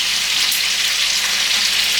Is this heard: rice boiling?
yes